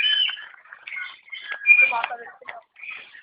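A wild bird calls outdoors in a run of clear, high whistled chirps and warbling notes, fairly close and loud, with people talking around it.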